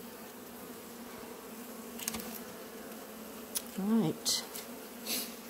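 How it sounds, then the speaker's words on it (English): A honey bee swarm that has settled into uncovered beekeeping equipment gives a steady, soft insect hum with a few louder buzzes passing close, while a voice speaks briefly. "You can see they're very calm. Swarms usually are very calm"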